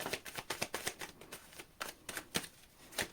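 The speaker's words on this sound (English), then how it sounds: "Alright, last shuffle" A deck of cards is shuffled during a pick-a-card tarot reading, with a quick run of crisp riffling bursts repeating in an uneven rhythm, close and fairly quiet, with no voice.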